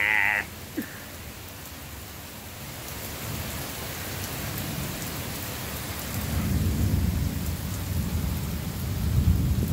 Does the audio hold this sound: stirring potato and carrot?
no